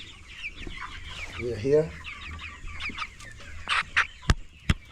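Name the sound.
Improved Kienyeji chicks clucking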